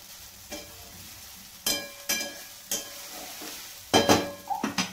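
A potato mixture with crushed peanuts is stirred in a pan, with a few distinct scraping strokes against a soft sizzle and no talking.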